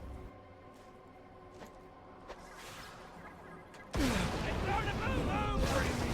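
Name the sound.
grenade explosions in video game Borderlands: The Pre-Sequel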